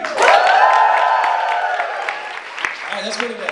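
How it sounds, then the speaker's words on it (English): A church congregation in Washington DC bursts into applause and whoops, a loud rising whoop and cheer at the start that settles into clapping and scattered shouts, fading toward the end. "It's applause with some whoops."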